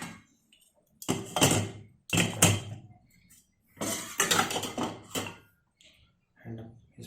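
Dirty metal gas stove burners are set down into a metal pan, giving several loud clattering clanks in separate bursts with quiet gaps between them.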